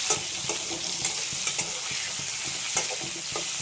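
Spices and crushed ginger fry in a pan with a steady sizzle. Stirring scrapes and light knocks recur every half second or so, close and fairly loud.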